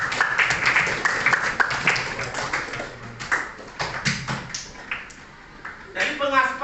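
Children in a classroom clap in a quick, rhythmic burst of applause that fades after a few seconds, followed by a short stretch of voices.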